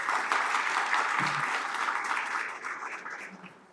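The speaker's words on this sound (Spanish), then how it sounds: "Fuerte el aplauso." Sustained audience applause at a conference on the Dominican penal code, dense clapping from a crowd that holds steady and then gradually fades, with no talk over it.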